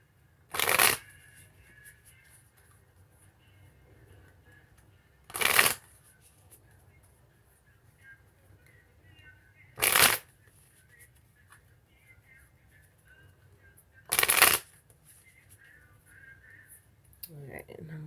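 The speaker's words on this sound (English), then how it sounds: "I'm going to go ahead and shuffle a few more times" A deck of tarot cards is shuffled in four short, crisp bursts spaced roughly four to five seconds apart, with near silence between them.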